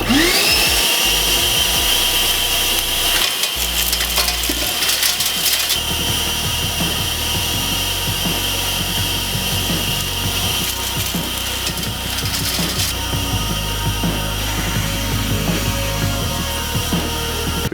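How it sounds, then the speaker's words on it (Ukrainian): A Ronix construction vacuum cleaner runs continuously, a loud, steady motor roar with airflow noise and rattling bursts as metal debris is sucked up, with no talk. "Пилосос без проблем з цією задачею справиться"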